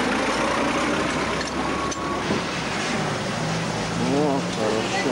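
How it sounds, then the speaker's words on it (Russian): A tractor drives past with a steady, loud engine rumble and broad mechanical noise filling the scene, while people talk over it outdoors. "Вон он, трактор едет."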